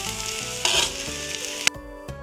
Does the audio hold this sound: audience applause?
no